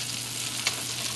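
Tenderloin filets fry in butter and olive oil in a hot pan, giving a steady, dense sizzle with a brief louder crackle midway.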